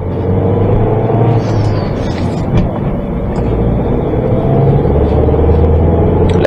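A Peugeot 308 CC with a 1.6 THP engine pulls uphill, giving a loud, steady low rumble heard from inside the car with faint road noise throughout.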